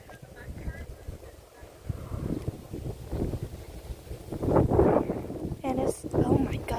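Strong outdoor wind buffets the microphone in a steady low rumble that swells louder toward the end, with a person talking over it throughout.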